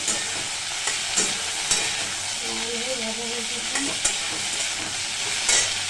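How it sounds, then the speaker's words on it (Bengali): Cauliflower frying in a pan, a continuous sizzle under repeated scraping stirs of a spoon at roughly one-second intervals, close and fairly loud with no talking. "ফুলকপি প্রায় ভাজাই হয়ে গেছে"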